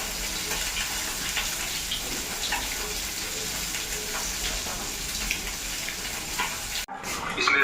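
Steady crackling sizzle of fish frying in hot oil, continuous and close, with a brief clatter near the end.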